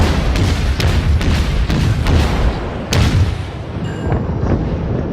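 Naval guns fire in the World of Warships video game, a run of heavy booming shots in quick succession followed by fading rumble and quieter distant impacts.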